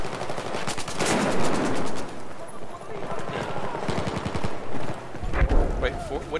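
Rapid automatic gunfire from Battlefield 4 rattles in dense bursts throughout, with overlapping shots and heavier impacts near the end, while players talk over the shooting.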